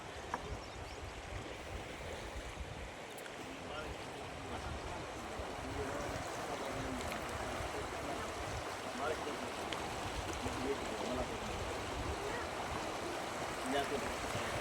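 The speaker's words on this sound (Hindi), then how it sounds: "ये देखें, नीचे पानी है।" Water of the Indus River rushes steadily beneath a moving boat, a broad continuous wash of flowing water and hull noise, loud and close throughout.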